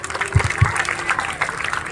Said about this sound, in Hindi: इस बिटिया के लिए तालियां।